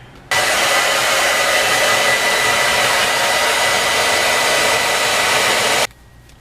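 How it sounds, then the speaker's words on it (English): A hair dryer blows on curly dreads set with perm rods. Its loud, steady roar switches on abruptly, runs unbroken for about five and a half seconds, then cuts off, with no talking. "Let's blow dry."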